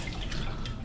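Water splashes while filling a bottle: a brief, dense, steady spatter of liquid, close and moderately loud, with no voices.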